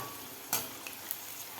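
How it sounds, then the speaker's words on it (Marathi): Colocasia leaf bhaji frying in a pan: a quiet, steady sizzle with one soft scrape as the fritters are turned and a couple of faint clicks, no voices. "तर आपण त्याला हलवून घेऊया."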